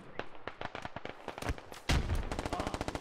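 Rapid gunfire in a video game shootout in Squad: dense bursts of sharp automatic shots, close and loud, turning into a fast steady rattle toward the end.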